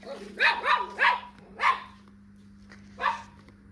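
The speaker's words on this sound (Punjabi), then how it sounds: "ਕਿਵੇਂ ਭੌਂਕਦਾ" A dog barks four times in a quick run, pauses, then gives one more bark; fairly close and clear, with a steady low hum underneath.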